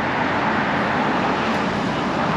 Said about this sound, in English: Traffic is busy.